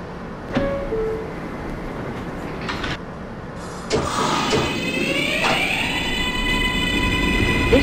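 A Manhattan-bound J local subway train in the OpenBVE simulator thuds and clunks at a station, a door chime sounds, then the traction motors whine upward as the train pulls away, with no talk.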